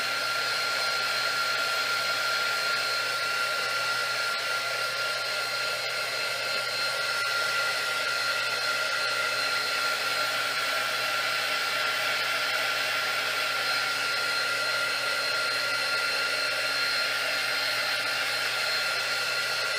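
A heat tool blows hot air in a loud, steady whine and rush, running continuously without pause for the whole stretch.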